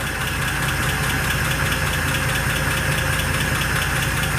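A 1948 Pontiac Torpedo engine runs steadily at a loud, close idle, with an even mechanical clatter and a constant drone throughout.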